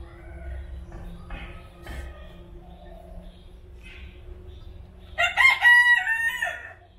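A rooster crows once at a forest zoo. The crow is loud and fairly close, rising clearly over a steady hum of background noise and scattered distant bird calls.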